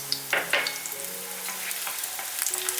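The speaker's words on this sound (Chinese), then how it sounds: "起锅热油，把蒜片跟葱放进来炒香" Garlic slices and scallions stir-fry in hot oil for a tomato and fatty beef pot, with a steady close sizzle and scattered scraping clinks of the spatula, and no talk.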